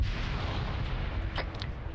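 Artillery shell landing close by in a military shooter game: a heavy, low rumbling boom that rolls on for the full moment, with a brief sharp crack near the end, and no one speaking.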